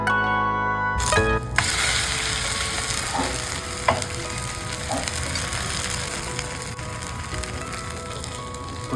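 Potatoes sizzle in oil in a pan for a breakfast dish, a steady close frying hiss with a few utensil clicks and taps, starting after a brief moment of other sound.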